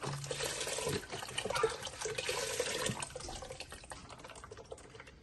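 Water pours steadily into a cooking pot of chicken broth for asparagus soup, a continuous soft splashing stream that tapers off toward the end, with no voices over it.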